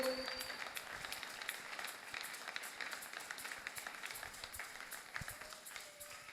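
A church congregation applauds during a worship service, a steady crowd clapping with many overlapping hands that holds a fairly even, moderate level throughout with no distinct voices on top.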